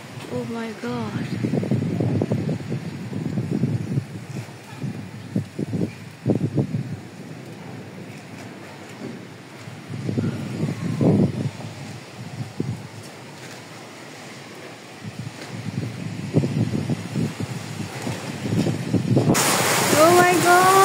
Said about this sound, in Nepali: हावाहुरी